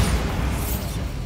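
A Bombarda exploding spell goes off in Hogwarts Legacy as a muffled, fairly quiet rumbling blast that rolls on steadily for about a second.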